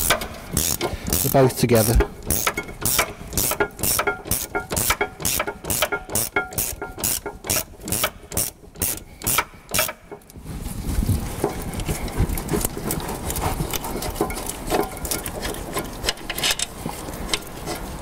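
A ratchet works on the brake carrier bolts of a Range Rover Sport, giving a long run of rapid, evenly spaced clicks up close, then a rougher mechanical grinding and rattling while a voice speaks briefly.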